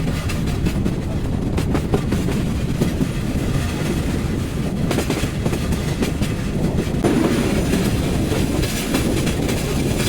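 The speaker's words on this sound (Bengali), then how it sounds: "পাহাড়ের মাঝ দিয়ে আমাদের ট্রেন ছুটে চলে যাচ্ছে শ্রীমঙ্গলের উদ্দেশ্যে" The Parabat Express runs through hilly country toward Sreemangal, heard from inside the carriage as a steady loud rumble with rhythmic clickety-clack of wheels on the rails throughout.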